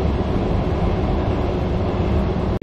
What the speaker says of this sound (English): we're here on the train